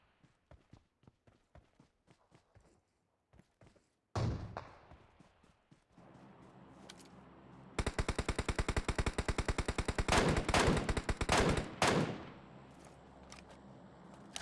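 Rifle fire from the MK gun in the battle game PUBG Mobile: scattered single shots and footsteps at first, then a loud, rapid, sustained volley of cracks with a few pauses, close and with no talk over it.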